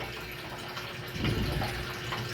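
Water runs from a tap while a cloth rag is rinsed, a close, steady splashing flow that swells briefly in the middle.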